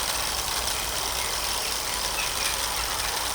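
A childhood Meccano steam engine runs at full steam, a steady, even mechanical hum and hiss that holds constant throughout with no pauses.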